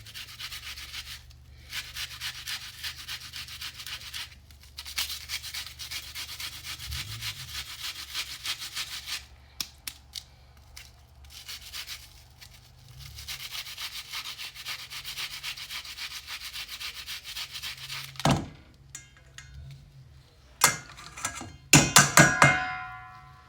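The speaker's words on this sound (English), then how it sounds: "we're going to grate some onion." Onion grated by hand on a grater for a corned beef and bread meal, a steady rasping scrape in long continuous strokes with brief pauses, close and alone, ending in a few sharp knocks.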